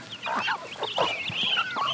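Agon, a local Filipino chicken breed, clucking on a farm: a flock of fowl giving overlapping squawks and clucks in quick irregular bursts, close and fairly loud, with no talking.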